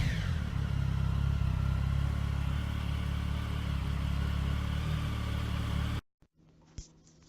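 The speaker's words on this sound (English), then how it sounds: "this is what the bike sounds like when it's running" A 2009 Triumph triple motorcycle engine with a modified exhaust runs at a steady, throaty idle with a low rumble and mechanical clatter, then cuts off abruptly, leaving quiet with a brief knock.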